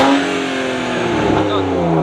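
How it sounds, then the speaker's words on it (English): A tuned car being built for a European event idles just after starting, its engine holding a steady, loud, close burble for a couple of seconds while people talk over it. "All right, it starts in idle. Now let's let it warm up a little bit and see if this thing still burbles."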